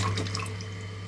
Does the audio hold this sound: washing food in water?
yes